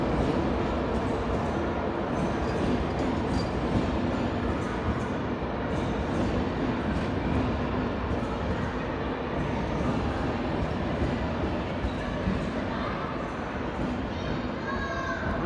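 A CrossCountry train pulling out of Darlington station, a continuous loud rumble of wheels and engine close by, with voices chattering over it.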